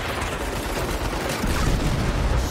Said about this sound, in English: Prepare for airstrike.